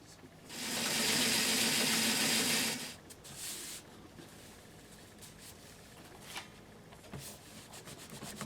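A sewing machine stitches pillow cover pieces together in one steady, close whirring run of about two seconds, followed by a brief second burst and then quiet handling noises.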